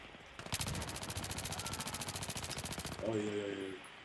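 Rapid automatic P90 fire in Battlefield 3, a fast, even burst of shots lasting a few seconds, followed by a brief tonal game sound, all loud and close.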